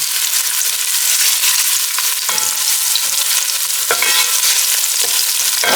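Ginger sautéing in hot cooking oil for chicken and pork adobo, a loud, continuous close-up sizzle with occasional scraping stirs of a utensil in the pan and no voices.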